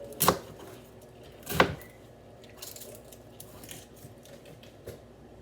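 Knife chopping two big onions on a cutting board at home, with two sharp, distinct thuds about a second apart and faint handling noises after.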